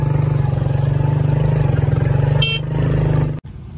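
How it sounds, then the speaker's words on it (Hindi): A close engine thrums with a rapid, pulsing beat as vehicles pass on the road, a brief horn-like tone cutting in before the noise drops away. "आज बाइकर का दिन है भाई, बहुत सारे बाइकर्स आ रहे हैं"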